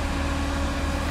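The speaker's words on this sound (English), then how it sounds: "sorry for the noise, but the furnace will turn off here in a minute" An RV furnace in a Roadtrek Popular camper runs with a steady, even broadband whoosh and low rumble, moderately quiet and constant throughout with no voices.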